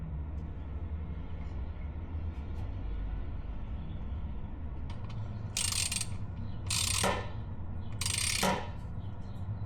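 Ratchet and socket loosening a hot plug on a BMW E46 during a transmission and differential oil change, three short clicking ratchet bursts in the second half after a steady low background hum, no talking.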